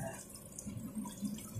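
Tap water runs steadily into a pot of arroz caldo made with Quaker oatmeal and chicken wings, a close, continuous splashing pour with no talk.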